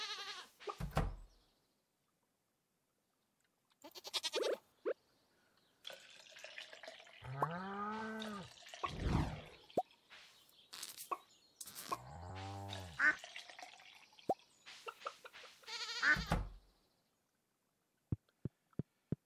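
Goats and cows bleat repeatedly on a Stardew Valley farm, with several separate calls spread through the stretch, plus short game effects and ticks. There is no talking.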